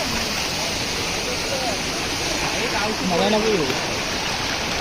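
Rushing water of the Juinagar waterfall roars as a steady broadband wash throughout, with people talking and calling out over it.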